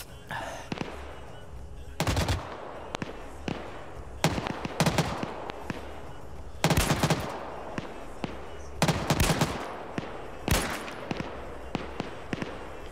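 Video game gunfire in scattered bursts, some close and loud, others distant pops, irregular rhythm over low background noise and occasional talk.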